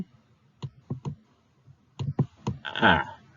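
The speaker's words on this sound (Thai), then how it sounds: "คุณครูใช้เมาส์เขียนดูจะ ขยับยากนิดนึง" A computer mouse clicks a handful of times, sharp and close, in uneven bursts with short pauses, as a teacher draws strokes with it; a brief rustling scrape follows at the end.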